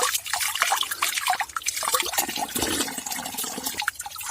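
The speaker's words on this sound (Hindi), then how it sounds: "जमीन से निकलता हुआ पानी" Spring water flows out of the ground beneath a rock on a mountainside, a continuous bubbling, splashing trickle heard close and fairly loud throughout.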